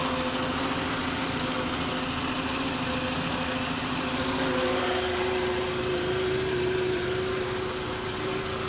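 A used Volkswagen Jetta with freshly replaced brake calipers gives off a steady, droning rotational hum from the rear as it slows, a constant tonal whine over low engine and road rumble with no talking.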